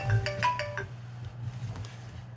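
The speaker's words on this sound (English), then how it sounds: "getting phone calls" A phone ringtone chimes during a talk show recording, a quick run of bright melodic tones in the first second that then fades into a low steady hum, with no voices over it.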